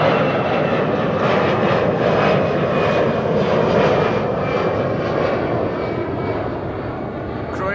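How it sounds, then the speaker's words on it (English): A United Boeing 767 departing runway 24 at Amsterdam Schiphol gives a sustained, loud jet engine roar with pulsing rumble that slowly eases toward the end, while a voice talks underneath. "And another United 767 in the background"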